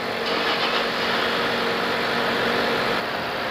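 A Mazda CX-5 engine with a newly replaced AC compressor idles steadily up close, a constant even hum that eases slightly just before the end.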